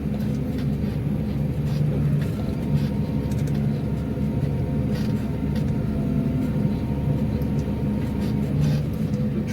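A New Holland T7.220 tractor pulling an Overum plough through a field, giving a steady, moderately loud engine drone that holds evenly with no talk.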